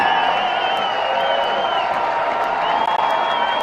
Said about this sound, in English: you can hear that Madison Radicals crowd coming way into it